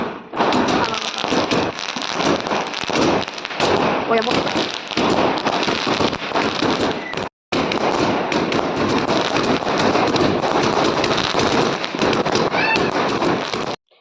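Dense, continuous crackling of Diwali firecrackers going off in rapid bursts, loud and close, with a brief silent gap midway before the popping resumes.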